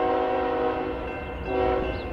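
Train horn from an approaching train in Stevenson, Alabama, sounding steadily and fairly loud across the whole stretch, a sustained chord swelling again toward the end, with no talk.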